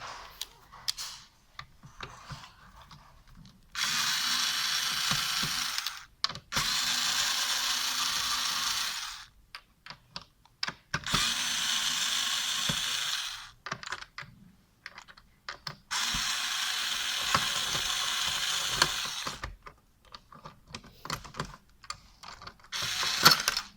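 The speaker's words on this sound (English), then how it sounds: "You have to remove only 4 screws." Screws being removed from the stand of an AOC I2369VM monitor, heard as several sustained bursts of whirring, ratcheting driver noise separated by short pauses and small clicks, close and fairly loud.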